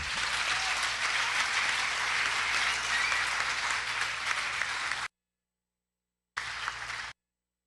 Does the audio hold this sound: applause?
yes